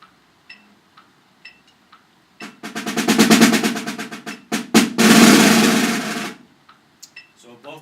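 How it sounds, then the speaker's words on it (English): A snare drum plays a five-stroke closed roll, then a sustained roll that swells from soft to forte, loud and close, with a brief break before a second strong burst and a few soft taps after. "You want to play them as 5-stroke closed rolls."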